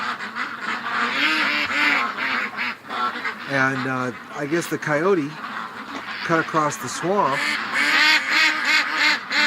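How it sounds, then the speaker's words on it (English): A large flock of frightened ducks in a swamp at night, hundreds crowded around a metal shed, quacking and honking in loud overlapping bursts that rise and fall, while someone talks over them. "the ducks are just totally freaked right out"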